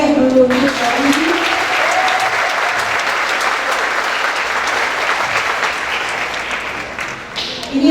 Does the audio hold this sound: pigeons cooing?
no